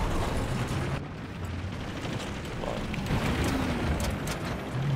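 A two-person tank rumbles through a Battlefield match on Caspian Border, a steady deep engine drone and mechanical clatter running throughout under a dense wash of battle noise.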